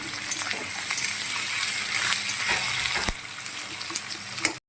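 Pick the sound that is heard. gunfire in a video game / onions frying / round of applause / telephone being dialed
onions frying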